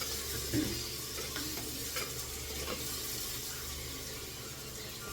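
Tomatoes sizzling in a hot pan in a home kitchen, a steady frying hiss with soft stirring scrapes throughout, no talking.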